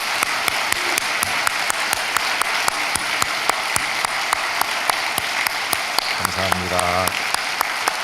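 Sustained applause from a church congregation at an early-morning prayer service, honoring youth musicians who just played; steady dense clapping throughout, with a brief sustained tone near the end.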